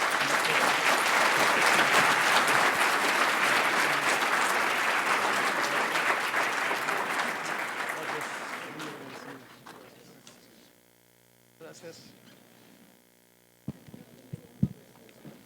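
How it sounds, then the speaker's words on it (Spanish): Conference attendees give a strong round of applause for award recipients, loud dense clapping for about eight seconds that thins and fades out, leaving a quiet room with a few scattered knocks. "rogándoles a los asistentes un fuerte aplauso"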